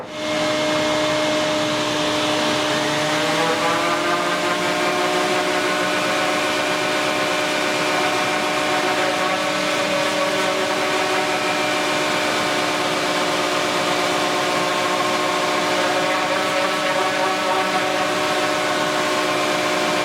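A powered sander works on a drum shell with a loud steady whir at an unbroken drone, its pitch drifting slightly as the tool runs.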